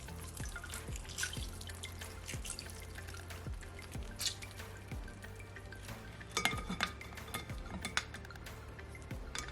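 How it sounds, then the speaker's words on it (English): Lime juice squeezed through a strainer while making Jamaican carrot ginger juice drips in faint, irregular drops and soft trickles, with occasional light clinks of the strainer, close by and quiet. "now I'm just gonna squeeze my lime in my strainer"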